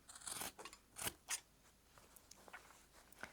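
Scissors snip close by while quilt-as-you-go block fabric is trimmed, giving a few quiet, sharp cuts with short rustles and gaps between them and no talking.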